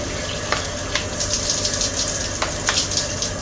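A hotel-room shower at a beachfront resort in Cha-Am runs in a steady, close, full hiss of spraying water, with a few light splashes and knocks rising out of it throughout.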